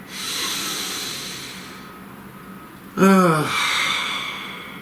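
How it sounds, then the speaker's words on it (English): A single deep breath drawn in sharply and then let out in a long, close, airy exhale over a faint background hum, with no words. "So, please take a nice deep breath."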